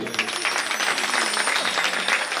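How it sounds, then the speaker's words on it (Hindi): A crowd at a Bhagwat Katha religious gathering applauds steadily throughout, a dense wash of clapping hands from many people, fairly close and even in loudness. "चलो तालियां बजा दिए।"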